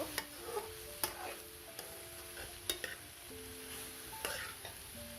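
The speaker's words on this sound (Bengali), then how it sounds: "আমি আস্তে আস্তে এই করলাটাকে একদম ভালো করে ভেজে নিচ্ছি" Bitter gourd slices frying slowly in a pan for a stir fry, a quiet steady sizzle broken by a few sharp clicks of a spatula stirring against the metal, with no voices.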